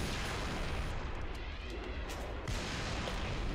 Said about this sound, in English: they're trying to like mortar the snipers